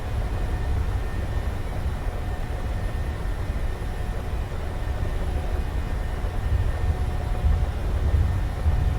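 Boeing 737 jet engines at takeoff thrust during a noise abatement departure, a steady loud low roar with constant broadband rush, building slightly toward the end, heard without speech.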